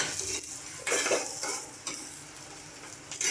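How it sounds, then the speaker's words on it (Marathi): Garlic and ginger sizzle and fry in oil in a pan, with steady crackling and occasional stirring scrapes, close and moderately loud, no voices, while butter chicken is being made. "लसूण आणि अद्रक पण असं पूर्ण भाजलं जातं छान"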